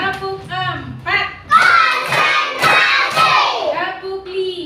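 Children clapping in rhythm during a counting clap game led by a teacher in a classroom, bursts of hand claps mixed with children's voices chanting and a voice, lively and close.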